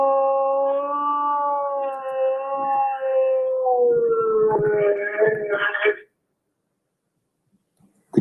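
A dog howling in a recording played back in a courtroom: a long, wavering, sustained howl that breaks into rougher barking-like yowls, fairly loud and close, then cuts to near silence before a brief final sound.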